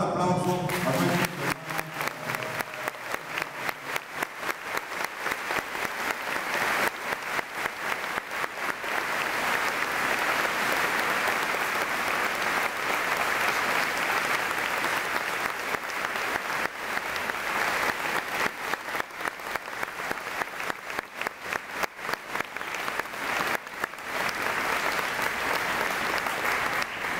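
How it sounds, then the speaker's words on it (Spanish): Sustained, dense applause from a large congregation fills a Catholic Mass, steady and loud for nearly half a minute with no speech over it. "Vamos a dar un gran aplauso a nuestros"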